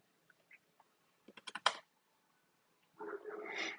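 Quiet computer clicking and keyboard tapping: a few soft isolated clicks, then a quick cluster of about five crisp keystrokes, followed by a softer rustling burst near the end.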